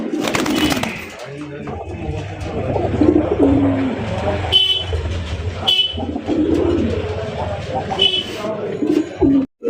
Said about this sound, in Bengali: খুবই সুন্দর ভালো মানের একজোড়া কবুতর